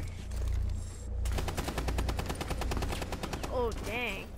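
Rapid automatic gunfire from the video game Rainbow Six Siege on PS4 rattles out in a dense, steady burst lasting a couple of seconds, followed by a brief voice rising over the game audio.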